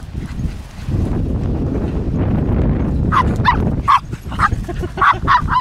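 Dogs, including a Pembroke Corgi, playing at a dog park: a rumbling scuffle of play first, then a burst of sharp, close barks and high yips coming in quick, irregular bunches.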